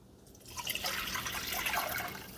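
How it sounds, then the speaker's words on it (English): Strained chicken broth is poured back into a pan in a short, soft liquid splash and trickle that swells after a quiet start and then eases off. "I am going to return the broth to the pan."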